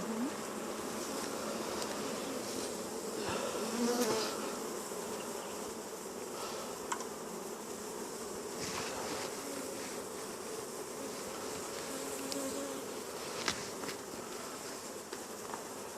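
Bees buzz around an open beehive during an inspection, a continuous close swarm drone with individual bees whizzing past now and then. No one talks over it.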